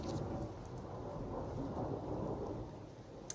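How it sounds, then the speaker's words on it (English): Rumbling thunder rolls through a steady rain shower in Maine, a low continuous roar with rain pattering close by and no talking. "Can you hear the thunder?"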